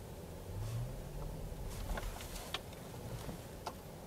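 A BYD Atto 3 electric car climbs a steep incline, giving a quiet, steady low hum and road noise with a few faint ticks, captured from inside the cabin.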